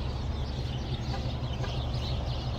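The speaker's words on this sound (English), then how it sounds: "And you know it's morning because listen to all those birds" Morning birds in the open Midwest countryside around a free campsite, a dense chorus of chirps and calls close by, steady and fairly loud with no talk.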